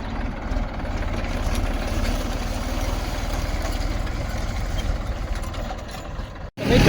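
Tractor engine idling in a field before sowing maize: a steady low rumbling chug with even rapid pulses, moderately close, continuing for several seconds before a short knock and louder noise at the end.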